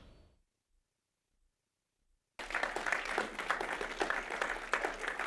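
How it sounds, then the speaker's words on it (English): An audience at a financial wellbeing forum breaks into sustained applause after a short silence, steady clapping from a large crowd filling the room. "that definitely deserves a round of applause"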